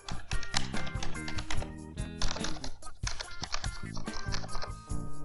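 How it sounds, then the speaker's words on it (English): Rapid, irregular key presses on a Rakk Illuminated gaming keyboard, close and clicky, in dense bursts with brief pauses between them, heard alone without talk. "I'm pressing on the keyboard now."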